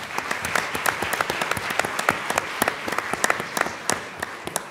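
Dense audience applause fills a hall at the final of a French eloquence contest, many hands clapping steadily and loudly with sharp individual claps standing out throughout, and no voices over it.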